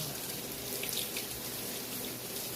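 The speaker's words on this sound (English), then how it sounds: "Turn this cold water on." Cold water running from a kitchen faucet, a steady even hiss and splash lasting throughout at moderate level, with no voices.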